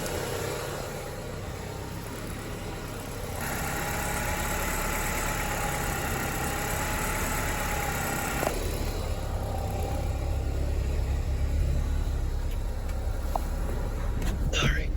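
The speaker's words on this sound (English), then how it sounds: "I'm gonna shift through the gears a little bit and just see how it feels." A 2G DSM car fitted with a stage 2 clutch runs steadily while its manual gearbox is shifted through the gears. The low engine rumble is joined partway by a rise in level, then a deeper tone, heard close with no speech.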